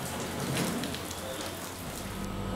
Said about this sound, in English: Miniature downpours.